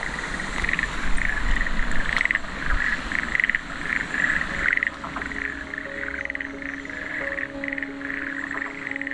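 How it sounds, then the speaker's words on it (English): A dense chorus of toads in a rice paddy in Japan croaks continuously, many overlapping rattling calls filling the air, steady and moderately loud with no talking. "We're standing next to a rice paddy, and the whole thing is alive with the sound of toads."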